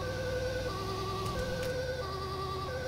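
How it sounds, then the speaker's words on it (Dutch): An ambulance siren from a GTA 5 EMS mod wails loudly and without a break. Its two-tone pattern alternates steadily and is heard alone. "Vinden jullie een mooie sirene trouwens?"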